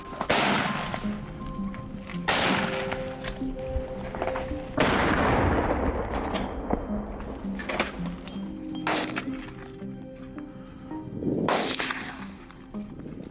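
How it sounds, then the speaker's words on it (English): Several sharp, loud rifle-like shots ring out during a wild boar hunt, spaced a few seconds apart, each trailing off in an echoing decay against an outdoor background with faint low hum. "Slowly, I raised my rifle and aimed at the target. Bang, a hit."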